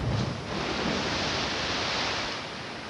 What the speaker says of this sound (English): And now we have our wave sound.